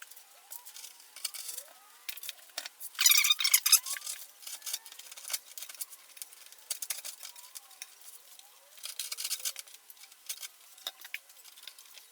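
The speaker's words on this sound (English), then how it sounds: "get a sharp scraper and just scrape off the bulk of what's left of" A sharp scraper scrapes old adhesive tape off the rear window lower weatherstrip trim of a BMW E46 coupe, giving irregular short scratchy strokes, close and fairly quiet, with a few denser scraping bursts.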